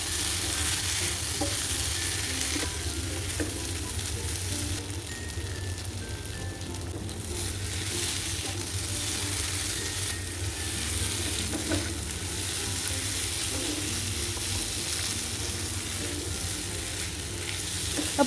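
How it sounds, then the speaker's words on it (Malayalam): Spicy beef dry fry (beef kondattam) with lemon juice sizzles loudly and constantly in a hot pan while being stirred, a dense, crackling frying hiss with no talk over it. "അതും കൂടി ചേർത്തൊന്ന് നന്നായി തന്നെ ഇളക്കി നമുക്ക് ഫ്ലെയിം ഓഫാക്കി ഇടാം"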